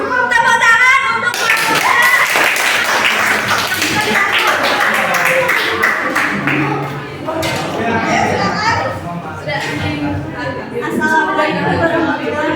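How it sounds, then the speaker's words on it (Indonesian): Students in a classroom clap together for a group about to present, a loud burst of clapping that runs throughout with children's chatter and voices mixed in. "Tepuk tangan untuk"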